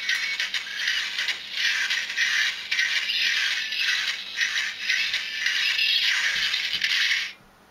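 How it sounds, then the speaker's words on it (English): A NECA ED-209 toy from Robocop plays its walking sound effect, a steady mechanical rattling and clanking that pulses in a loose rhythm for about seven seconds, close and fairly loud with no talking. "You can hear him walking towards Robocop."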